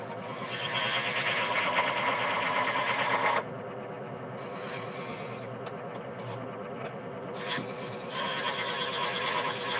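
Saw blade cutting curved handholds and decorative curves into a wooden serving tray, a steady close buzzing rasp that briefly drops out and resumes, continuing loud throughout without talk.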